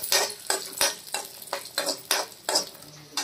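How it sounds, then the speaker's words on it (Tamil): Cashews roasting in ghee in a pan, with rhythmic stirring scrapes about every half second over a light sizzle, close and moderately loud. "முந்திரிய நெய்யில நல்லா பொன்னிறமா வறுத்துக்கணுமா"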